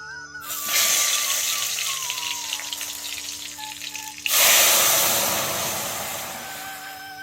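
Dried red chillies fry hard in hot oil for a dal tempering, blackening in a home kitchen: a loud, steady hiss and crackle that swells into a sharper, fuller burst partway through, with a faint tonal hum underneath.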